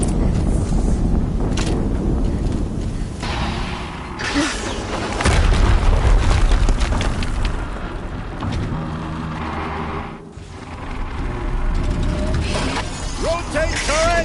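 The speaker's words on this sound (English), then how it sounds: "Another explosion." Heavy, sustained booming blasts roll through a Horizon Zero Dawn battle, with crackling debris and rumbling low end that swell and fade repeatedly over the whole stretch.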